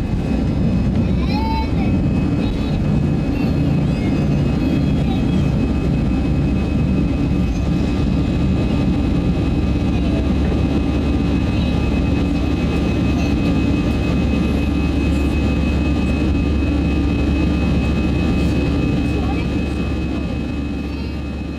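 Steady roar of a Saudia airliner cabin on a late flight to Dubai, a loud constant engine and air rumble with faint tonal whine, unbroken and close throughout.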